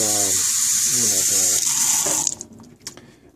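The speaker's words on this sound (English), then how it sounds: "I'm just going to be adding a bit more water" Warm water runs steadily from a tap into a sous vide container for cooking flap steak with an Anova circulator, then cuts off, leaving a few splashes while a voice talks over the flow.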